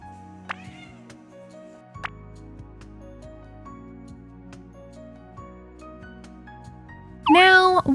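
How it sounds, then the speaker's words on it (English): A cat gives one loud, close meow near the end, after tasting Viva Raw complete and balanced raw cat food, following several seconds of quiet room tone with faint clicks and taps. "What did you think about Viva Raw's complete and balanced cat recipe, Tangy?"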